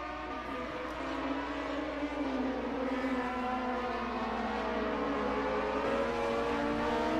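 Historic 1978 DRM racing cars at the Mainz-Finthen airfield circuit run into the first turn on lap 44, with engines droning and shifting pitch as they pass. A continuous, moderately distant roar is heard with no talking.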